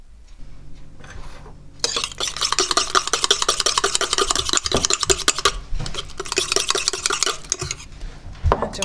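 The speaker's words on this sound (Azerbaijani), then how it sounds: "Bunları da istəyirəm vilkanla çalım" A fork briskly whisking cake batter in a bowl, a dense rapid clatter of metal against the bowl that starts after a quiet moment and carries on close and steady with brief pauses.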